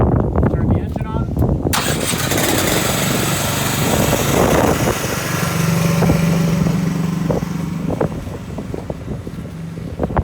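A small auxiliary engine on a steerable step deck trailer cranks and catches, then settles into a loud, steady running drone close by, with a voice talking over it.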